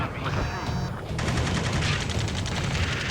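Rapid gunfire rattles from a distant shore in a video game battle, a dense crackle of automatic shots layered over a low rumbling din, loud and steady throughout.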